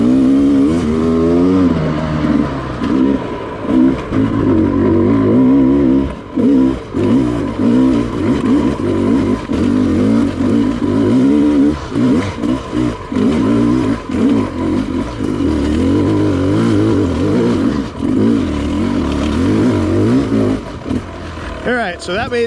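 A Sherco dirt bike climbs a hill on a reduced power map, its engine revving loud and close with fluctuating pitch, the revs dipping and surging, and a voice talking over it in places.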